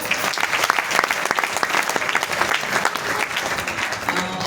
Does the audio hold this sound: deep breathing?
no